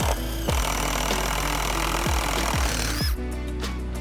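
Power drill boring a bolt hole through stacked wooden boards for a patio installation, loud and steady with several short bursts where the motor surges and stops, no talking.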